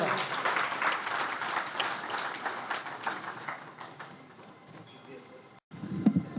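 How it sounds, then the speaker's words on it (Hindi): Audience at an honouring ceremony applauding as a speaker is welcomed, a dense steady round of clapping that gradually thins and fades before a short pause and a brief sound at the end. "आपकी बहुत सारी चाहतों में, बहुत सारी तालियों में तशरीफ लाते हैं जनाब खालिद सज्जाद अहमद साहब।"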